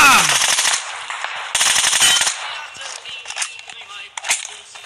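An SKS rifle fires in rapid, crackling bursts of gunfire that echo sharply, with voices mixed in, then thins to scattered single cracks.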